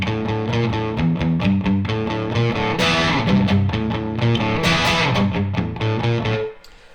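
One electric guitar plays both the rhythm and the lead parts of a song, with driving rockabilly chords and accented notes, slightly distorted and continuous before stopping abruptly, with no talk.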